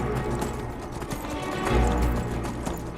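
A horse's hooves clip-clop at a steady, fairly loud trot in Skyrim, with a heavier thump partway through and no speech.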